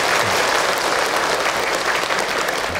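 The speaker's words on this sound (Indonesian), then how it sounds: "Tepuk tangan buat kita semua yang hadir" A crowd at a religious gathering bursts into dense, loud applause, a steady wash of clapping with no pause.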